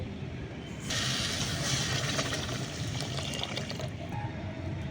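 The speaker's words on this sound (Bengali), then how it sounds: "যতটা চিনি নিয়েছি ঠিক ততটাই আমি এখানে দিয়ে দেব জল" Water is poured into a pan of sugar to make syrup for bread pantua sweets, a steady close splashing pour lasting a few seconds over faint background noise.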